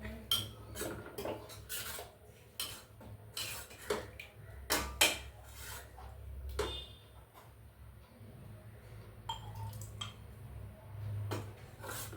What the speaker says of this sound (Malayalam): നമുക്കിത് കപ്പിൽ നിറക്കാം